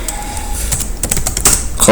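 Rapid keystrokes clatter on a computer keyboard, a quick burst of close, sharp clicks lasting about two seconds.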